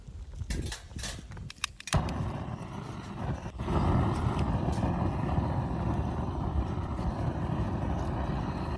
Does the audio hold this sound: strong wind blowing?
yes